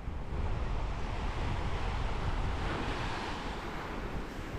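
Sea surf rolling onto a beach at Constanta, a steady broadband wash of breaking waves with some wind noise on the microphone, continuous and fairly close throughout, with no voices.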